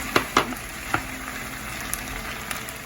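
Tomatoes fry with shrimp and sweet peppers in a pan, giving a steady soft sizzle close by, broken by a few sharp clicks and taps of stirring.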